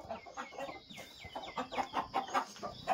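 Hens cluck in a backyard chicken coop, a close, busy chatter of short overlapping clucks and squawks from several birds.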